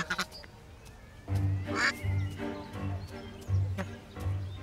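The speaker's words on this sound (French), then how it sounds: "Ce petit monsieur est un colvert, pas une oie" A mallard duck in Paris gives a run of loud, close quacks in separate bursts, each a short nasal call, with quieter background noise between them.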